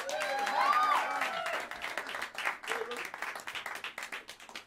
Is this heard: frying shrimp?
no